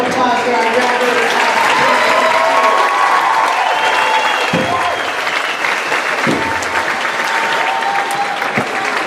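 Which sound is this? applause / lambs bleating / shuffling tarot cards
applause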